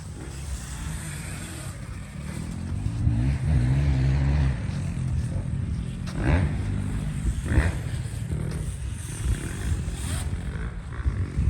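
A KTM E5 electric dirt bike fitted with a sand tire rides over a dirt track with jumps, giving a rough whirring roar and tire scrabble that swells and fades.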